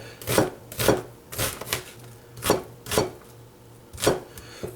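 A Chicago Cutlery kitchen knife chops food with its tip on a cutting board, nine crisp, evenly spaced taps in a steady rhythm, close and alone.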